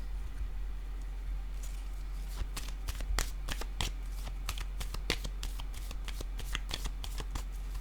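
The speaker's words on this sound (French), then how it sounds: "Je vais déposer une autre carte ici." Tarot-style cards being shuffled and handled, with a run of sharp, close card snaps and flicks repeating steadily over a low constant background hum, no talking.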